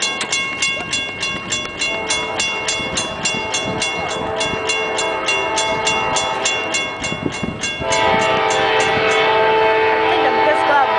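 A southbound train passes close by at a railroad crossing, its wheels clattering in a steady rhythm as a loud horn blares over the rumble, with people talking nearby.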